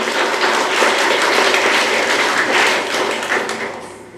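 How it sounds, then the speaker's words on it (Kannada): Schoolchildren at a government higher primary school's community and talent-award event applaud a student's dance. The clapping is sustained and lively, holds for several seconds, then tapers off at the end. "ಅವಳಿಗೆ ಮಗದೊಮ್ಮೆ ಗಟ್ಟಿಯಾಗಿ ಕೈ ಚಪ್ಪಾಳೆ ಕೊಡಿ ಮಕ್ಕಳೇ."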